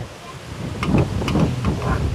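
Strong wind blows steadily outdoors as low rumbling gusts, with a few brief voices and sharp knocks rising above it.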